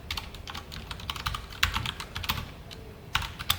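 Code being typed on a computer keyboard, a quick irregular run of light clicking keystrokes with a few sharper presses, close and fairly quiet with no voices.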